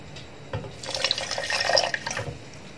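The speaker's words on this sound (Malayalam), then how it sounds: "കുറച്ച് വെള്ളം, തണുത്ത വെള്ളം കൂടി ഒഴിക്കുന്നുണ്ട്." Cold water poured into a mixer jar holding lime for fresh lime juice, a short splashing pour that swells and fades over a couple of seconds, heard close with no voices.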